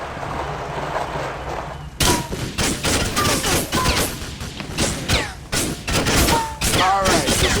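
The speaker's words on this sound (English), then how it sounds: "Clearly you can't hear what they're saying because of all that gunfire." Rapid gunfire and bursts of shooting crash through a loud Grand Theft Auto IV shootout, starting abruptly after a quieter stretch and continuing in dense, overlapping volleys with impacts and shouting voices mixed in.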